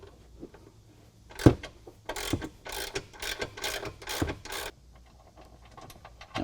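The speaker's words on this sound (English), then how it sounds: "So now we're going to remove that inside bolt." Ratchet wrench clicking while a Jeep JL front bumper frame bolt is removed, with a series of close, uneven bursts of metallic ratcheting and a few sharp knocks, with no talk.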